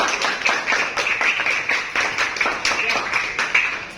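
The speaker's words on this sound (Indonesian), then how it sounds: "Oke, tepuk tangan semuanya." Students in a classroom clap their hands together in a steady, fairly close patter lasting several seconds, a lively round of clapping under a faint background murmur.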